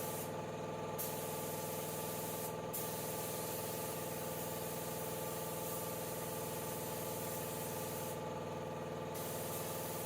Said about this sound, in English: do a little spraying, and see if I can get my second coat across everything